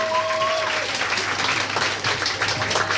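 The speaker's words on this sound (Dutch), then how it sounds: "Maak alsjeblieft een luid applaus voor Jessie Mini" Warm applause from an audience at the Miss Elegance 2020 pageant as a contestant is welcomed on stage, steady dense clapping lasting throughout, with a faint tonal hum beneath.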